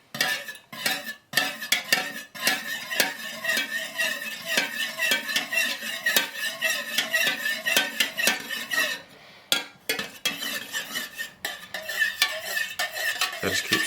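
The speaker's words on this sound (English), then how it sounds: "And just stir that in." Mica powder stirred into melted wax for wax melts, a steady run of close scraping and clinking of a utensil against the container, with brief pauses and no voices.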